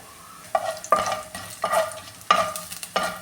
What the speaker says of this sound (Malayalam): ഇതിലേക്ക് കുറച്ച് നെയ്യ് ഒഴിച്ചു കൊടുത്തിട്ടുണ്ട് ഇതിൽ കുറച്ച് പട്ട ഗ്രാമ്പു ഏലക്ക ഇതെല്ലാം ചേർത്ത് കൊടുത്തിട്ടുണ്ട്